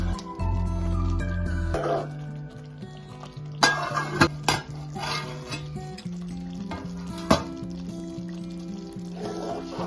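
A spoon stirs green chilli stuffed brinjal curry in a pan on a low flame, scraping and clinking against the metal in an uneven rhythm over a steady low sizzle, with a few sharper knocks.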